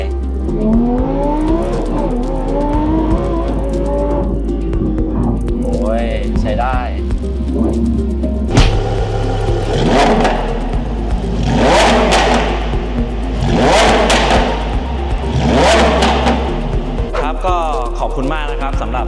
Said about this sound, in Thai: เดี๋ยวไปลองฟังเสียงกันนะครับว่าเปลี่ยนท่อมาแล้วเป็นยังไง